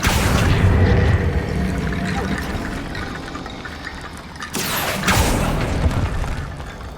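A loud magical blast from the Confringo fire spell in the Hogwarts Legacy video game, with a rumbling burst up front, a sustained roar, then a second whooshing impact about two-thirds through, set over game ambience.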